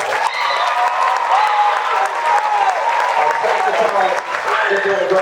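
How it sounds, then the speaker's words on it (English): Audience applauding a high school jazz band's rhythm section at a Christmas concert, loud sustained clapping with some cheering and voices mixed in throughout. "Let's give our rhythm section a round of applause."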